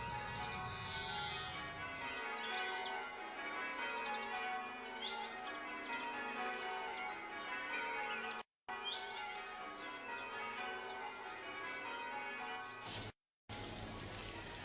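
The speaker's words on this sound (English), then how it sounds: "It's a long time since we heard those bells." Church bells ring out in a peal with clear repeated tones, accompanied by occasional bird chirps in the background, moderately loud and unaccompanied by speech.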